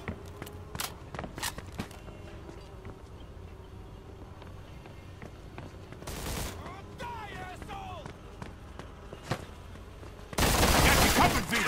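Gunfire in the Mafia II video game: scattered sharp shots over game ambience and footsteps, then a loud sustained burst of fire near the end, with speech mixed in.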